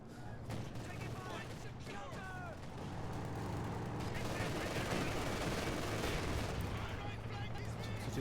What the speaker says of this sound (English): Just little smatterings of firefights here and there.